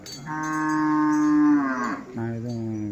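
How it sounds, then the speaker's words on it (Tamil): A cow gives a long, loud, close moo that rises and holds before breaking off, followed by a second shorter low call. "மாடு அப்படியே கத்திக்கினே கிடக்குது"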